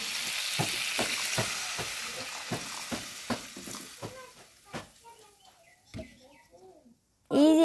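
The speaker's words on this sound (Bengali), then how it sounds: "আমি হালকা হালকা ভাজা ভাজা করে নেব ভালো করে" Curry sizzles and fries in a pan while a utensil scrapes and knocks in a rhythmic stirring pattern; the sizzle fades, the knocks thin out, and a voice speaks briefly near the end.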